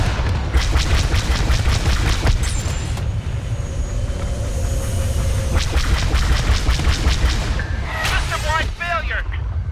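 Y-Wing squadron bombing run in Star Wars Battlefront 2: deep booming explosions roll under a constant loud battle din with whooshing fly-bys, and a voice speaks amid the chaos.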